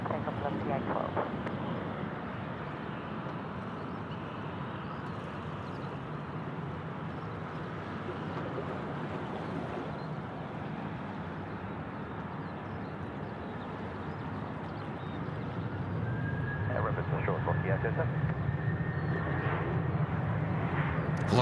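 A Velocity airliner rolls for takeoff on runway 34 right at Sydney Airport, a broad sustained jet roar heard from a distance that swells toward the end, partly under faint talk.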